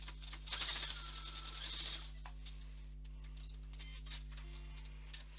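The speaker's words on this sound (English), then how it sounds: "So I'm going to slip that underneath the needle, lower the foot, and I'm going to stitch." A Brother F420 sewing machine stitching through six layers of fabric, a quiet rapid mechanical rattle for about two seconds, then softer clicks and handling sounds.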